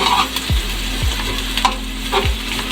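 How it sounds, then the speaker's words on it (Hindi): Garlic frying in oil in a pan for a vegetable gravy, a steady close sizzle broken by a few sharp thuds and clicks of a utensil against the pan. "अब मैं इसमें ऐड करूँगी लहसुन, ताकि लहसुन अच्छे से फ्राई हो जाए"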